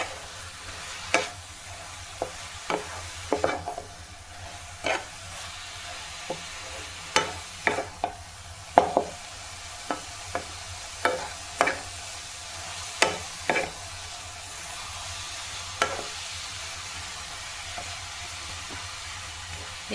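Grated carrot stirred in sizzling ghee for carrot halwa, a soft constant frying hiss punctuated by irregular scraping clicks of the spoon against the pan, close and steady with no talking.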